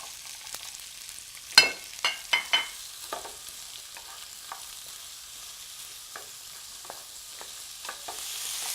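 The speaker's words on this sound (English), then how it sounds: "Then we add the onions." Onions dropped into hot olive oil in a pan, a few loud sizzling bursts at first, then a quieter steady hiss with scattered spatter pops, heard close and with no voices.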